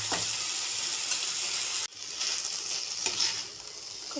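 Cluster beans stir-frying in a pan with asafoetida added, a steady crackling sizzle with a few sharp clinks and stirring scrapes, close and alone.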